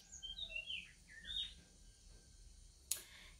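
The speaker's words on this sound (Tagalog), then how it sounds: "May ibon." A bird gives a few short, high chirps, faint and thin against a quiet background, followed by a single sharp click near the end.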